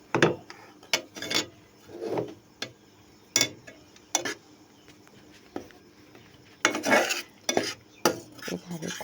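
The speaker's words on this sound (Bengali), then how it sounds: "এভাবে খুন্তি দিয়ে অনবরত নাড়তে থাকবে, তলিতে কিন্তু লেগে যাবে।" A spatula scrapes and stirs a thickening watermelon mixture in a pan, making intermittent clacks and scraping strokes against the metal at close range with a faint sizzle beneath.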